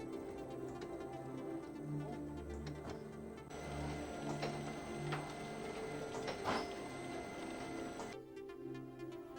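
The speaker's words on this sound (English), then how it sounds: "Press the button for double sheet positioning run twice again, and the sheet will be transported to the delivery." A Heidelberg Printmaster QM 46 offset press runs a steady mechanical clatter and hum as it carries a sheet through to the delivery, with repeated clicks and a brief louder clunk near the end.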